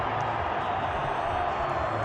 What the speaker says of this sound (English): The crowd erupts at the Harare Sports Club